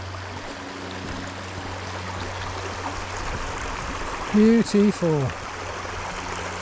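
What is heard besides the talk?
Banishead waterfall flowing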